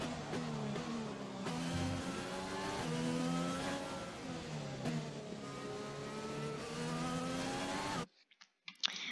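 Race car engine in a racing video game during a qualifying lap, loud and close, revving up and dropping back through repeated gear changes, then cutting out abruptly near the end.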